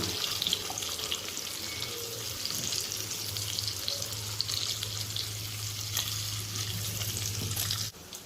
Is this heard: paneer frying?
yes